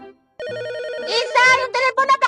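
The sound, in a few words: telephone ringing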